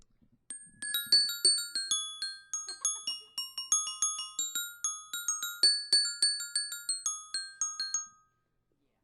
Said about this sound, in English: This is not called the xylophone. It is called the bells.